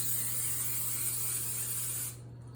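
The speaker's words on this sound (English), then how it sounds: "So we need to spray them, and I use Pam cooking spray" A steady, bright hiss of a Pam cooking spray can spraying a muffin pan for about two seconds, then cutting off abruptly.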